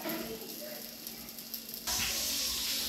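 Oil sizzles steadily under a pesarattu dosa in a hot pan, and the hiss swells louder partway through as more oil goes in.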